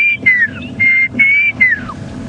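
A black-crowned tchagra gives a series of clear, loud whistled notes, some steady and some sliding downward, repeated in a rhythmic phrase over faint background birdsong on a safari drive at Djuma Game Reserve.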